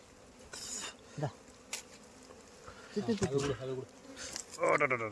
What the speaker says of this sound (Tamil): பூச்சி பூச்சி பூச்சி